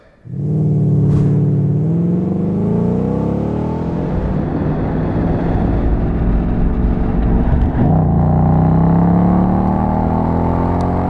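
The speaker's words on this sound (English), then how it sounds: "we're gonna unstrap this thing here from the dyno, get it out on the road and see what Mike thinks" A 2015 Ford Mustang GT with a Flowmaster exhaust drives on the road, its V8 exhaust droning loud and steady, with rising and falling engine tones as it accelerates and shifts throughout.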